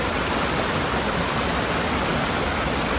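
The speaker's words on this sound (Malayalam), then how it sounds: "ഈ വാട്ടർഫോൾ കണ്ടോ, ബിഗ് വാട്ടർഫോൾ" A big waterfall in Kerala roars in a dense, unbroken rush of falling water, loud and steady throughout with no other sounds.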